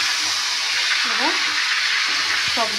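Fish sizzles in a pan with five-spice seeds and tomato, a constant loud close frying hiss with faint clinks of stirring and a voice briefly underneath.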